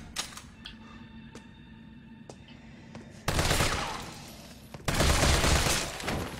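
Machine gun fire in the video game Resident Evil 3 Remake: a few scattered single clicks and thumps give way to two loud, sustained bursts of rapid automatic shooting close up.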